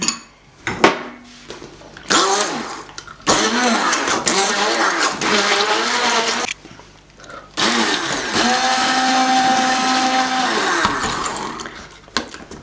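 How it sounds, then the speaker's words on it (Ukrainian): A blender whirs loudly in bursts, mixing butter into caramel, starting and stopping several times with brief pauses between runs, close up. "переносимо масельце і гарно пробиваємо блендером"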